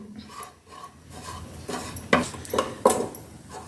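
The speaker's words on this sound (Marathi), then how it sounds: "सर्व जिन्नस एकजीव करून घेऊ।" Spoonfuls of Maharashtrian karanji filling spiced with nutmeg and cardamom powder are stirred and mixed in a bowl, with soft scraping and a few sharper utensil clinks against the bowl toward the end, close and alone.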